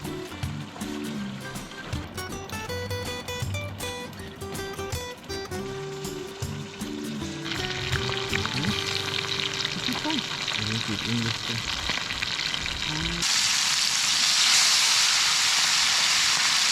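Cleaned, sliced fish sizzles in a frying pan at a riverside campsite, a steady crackling hiss under background music that grows louder and harsher toward the end.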